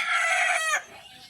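A chicken gives one short, loud, strained call close by, more of a squawk or crow than a cluck, then cuts off into quiet.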